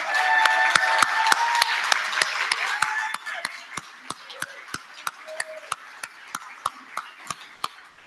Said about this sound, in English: let's give a big round of applause to Shauna McMahon, our executive director